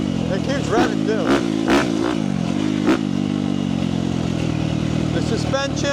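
A 2017 Yamaha YZ250F dirt bike engine revs in several short, sharp bursts over a steady running note, loud and close, with some clattery mechanical noise mixed in.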